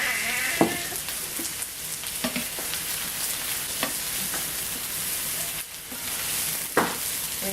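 Chicken and vegetables sizzle and crackle in a pan while being stirred, with a steady frying hiss broken by several short scraping knocks of the utensil against the pan.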